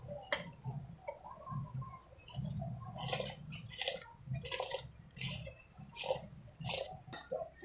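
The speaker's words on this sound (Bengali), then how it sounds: "জল ফুটে গেছে, আমি এবার চাল দিয়ে দিচ্ছি, ভেজানো চালটা" Soaked rice being tipped into a pot of boiling water for chicken biryani, with repeated close splashes and sharp clinks of the rice and utensil hitting the pot over a low bubbling simmer.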